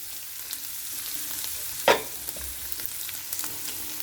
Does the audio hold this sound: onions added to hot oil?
yes